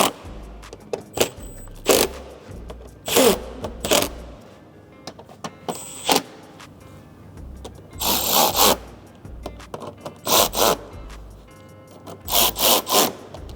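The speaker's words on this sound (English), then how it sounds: "Then just take a 8mm socket and just get them all tight." An 8mm socket ratchets skid plate bolts tight beneath a BMW F8X M3/M4, giving repeated short bursts of clicking and scraping metal with pauses between, close and fairly loud.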